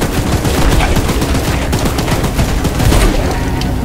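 Rapid, sustained gunfire from a train-mounted gun firing at the monstrous spider train in the horror video game Choo Choo Charles, a dense, loud barrage of closely spaced shots lasting the whole stretch with no talking over it.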